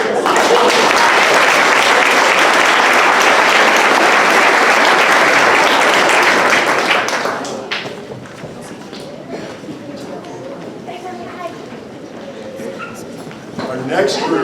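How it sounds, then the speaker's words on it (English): Loud, sustained applause from an audience at a middle school 8th grade academic awards ceremony, lasting about seven seconds before fading into softer crowd murmur and scattered voices. "Let's give them a round of applause."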